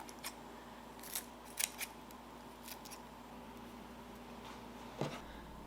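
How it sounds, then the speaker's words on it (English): Scissors snipping fresh chives over a chicken casserole, a handful of quiet, sharp metallic snips spaced irregularly against a soft background hum, no voices. "we're just going to cut a few of these chives on here just to make it look a little prettier"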